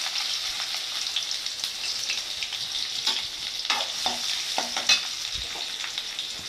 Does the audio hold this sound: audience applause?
no